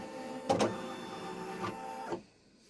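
An embroidery machine's embroidery unit shifts its carriage in a few short motor whirs, about three mechanical movement bursts over a steady hum, then falls quiet at the end.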